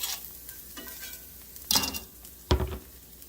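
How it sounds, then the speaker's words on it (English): Five cloves of chopped garlic sizzling in a skillet over medium heat, a steady close fry with two sharp spoon-scraping stirs against the pan, and no voices. "We're going to stir that around really quick, get it cooking."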